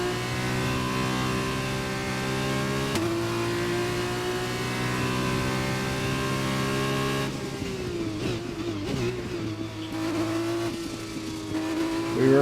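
F1 race car engine in the video game F1 2021 at the Barcelona circuit: a steady, loud high-revving whine holding pitch, then dropping and shifting through gears as the car brakes and accelerates again.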